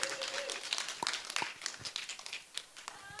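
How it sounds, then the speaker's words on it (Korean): An indoor audience at a community cooperative forum on loneliness gives scattered, sparse applause, with individual claps popping out irregularly and fairly quietly, and a little murmur underneath. "박수 쳐주세요."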